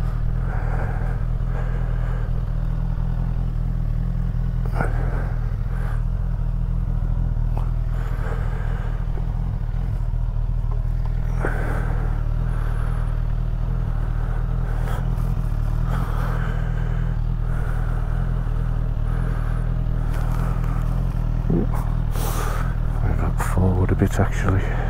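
A Suzuki Katana 1000 motorcycle idling with a steady deep engine drone while being shuffled into a parking spot, with occasional clunks and scuffs, and someone talking over it.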